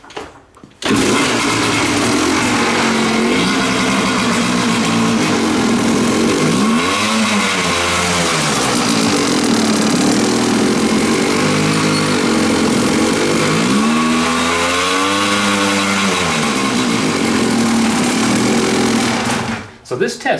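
A small carburetted engine runs loud and steady, climbing from a low idle-like drone around 2,500 RPM up to about 5,000 RPM and back in two sweeping revs, running alone with no talk.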